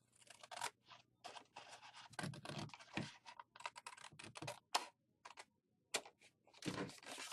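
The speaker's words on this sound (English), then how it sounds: "we're going to go ahead and cut that right up to the fold of the card" Scissors snip through a folded card base in a run of short, crisp cuts, close and fairly quiet, with brief pauses between strokes and no talk.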